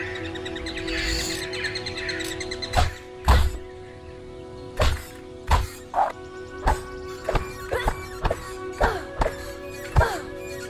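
Repeated wooden thwacks of a weapon striking a training dummy in the video game Fable, about a dozen sharp hits at an irregular, quickening pace over steady ambient birdsong and a sustained tonal drone.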